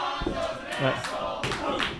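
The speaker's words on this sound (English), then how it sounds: "the crowd says their feelings about Alonso" A wrestling show crowd chants and shouts in rhythmic bursts about the wrestler Alonso, loud voices rising and falling together in waves.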